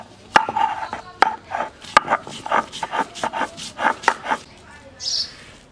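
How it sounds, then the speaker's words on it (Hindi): Soaked chana dal ground coarsely on a stone sil-batta, heard as a close series of rhythmic rubbing and scraping strokes with a few sharp knocks of stone on stone. "चना की दाल को पीसेंगे सिलवट पे ताकि ये इसका पेस्ट ना बने और ये दानेदार रहे"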